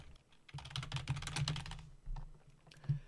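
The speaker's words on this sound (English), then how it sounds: "we can just type in like some arguments here" Fingers type command line arguments on a computer keyboard in a rapid, close burst of key clicks, followed by a short pause and a few final keystrokes, with no talking.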